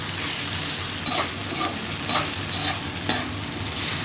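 Mutton for Hyderabadi dum biryani frying in plenty of oil over a high flame, a dense constant sizzle with occasional louder stirring bursts, close and uninterrupted by speech.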